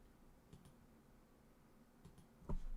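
A few soft clicks from a computer keyboard at a live video game stream desk, arriving in two faint clusters with a slightly louder tap near the end and no talk over them.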